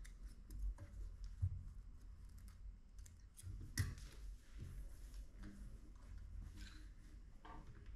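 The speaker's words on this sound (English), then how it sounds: "Cut off loose threads." Scissors snip off loose threads after sewing a zipper, giving a few soft, close clicks and cuts against a quiet background with faint handling noises.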